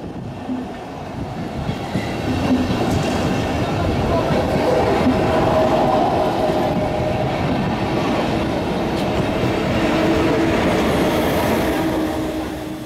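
A regional train with n-type coaches and a class 146 electric locomotive rumbles through Stuttgart main station, a loud, steady rolling roar with faint wheel clatter that swells and holds for several seconds, close to the track.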